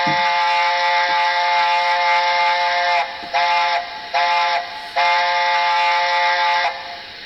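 A loud, steady whistle from a Dapol A4 model steam locomotive sounds, broken into a few short toots midway, then held long again before cutting off.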